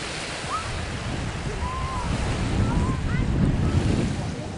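Waves washing on a Chicago beach, a continuous rolling surf with wind buffeting the microphone, swelling slightly toward the middle.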